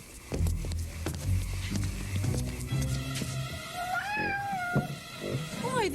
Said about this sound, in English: Why, there really is a cat.